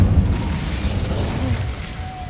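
An Incendio fire spell blast goes off in the Hogwarts Legacy game as a heavy, booming explosion at the start. A rumbling tail then fades across the rest, with some game voice present.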